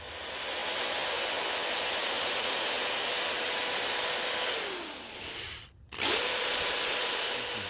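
A power drill bores holes in the liner of a vintage Colonial jack knife for mounting handle scales, a steady high whine that winds down and cuts out briefly before starting again, alone and close by.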